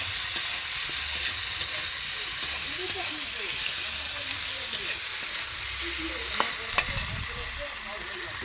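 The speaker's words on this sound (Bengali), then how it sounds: "এরপর আমি দিয়ে দেবো টমাটো কুচিগুলো সব উপকরণগুলোকে দিয়ে ভালো করে এভাবে আমি আরও একবার নেওয়া দেওয়া করে নিলাম" Chicken kosha with chopped tomatoes is stirred in a pan over an earthen stove. Steady sizzling and frying hiss fill the background, with repeated scraping stir strokes and a few sharper clinks of the utensil against the pan.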